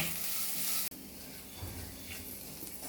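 Buttermilk curry masala fries on a low flame with a steady, close sizzling hiss, a brief dropout near the start, and soft stirring movements underneath.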